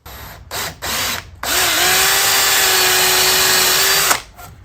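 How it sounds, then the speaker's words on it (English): A power drill bores a small hole in hard maple in a workshop beside an old Delta Rockwell lathe, with two brief bursts followed by a long steady whine as the bit cuts, close and loud. "Could even drill a small hole in there. This is hard maple"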